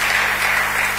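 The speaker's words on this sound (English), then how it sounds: "And I want you to clap for Jesus for your life, for making it possible for you to be here." A congregation claps at a church worship gathering, a loud, dense and steady wash of hands that is brief and carries no speech.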